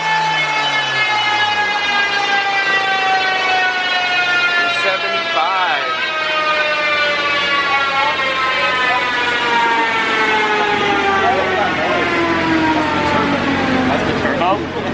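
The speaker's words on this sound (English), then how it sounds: "Oh, the turbo's like surging?" A turbocharged Honda D-series engine runs hard on a dyno, a loud sustained turbo whine rising steadily in pitch with fluttering surges over the drone of the engine, and people talk throughout.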